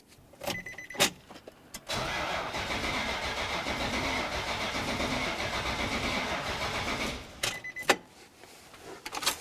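A 2004–2015 Nissan Titan with its fuel pump fuse pulled cranks for about five seconds without firing, a steady loud churning of the starter. A few sharp clicks come just before and after it.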